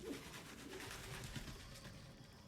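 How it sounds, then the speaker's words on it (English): Pigeons coo in the Baldur's Gate 3 video game, soft low repeated calls heard faintly over a quiet ambient game background, with no talk. "When did we get pigeons? Did y'all hear that? That was some birds for sure."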